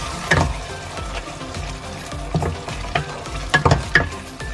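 Spice paste sizzles in a hot pan while a utensil scrapes and stirs it, with irregular louder clanks and scrapes over the frying hiss.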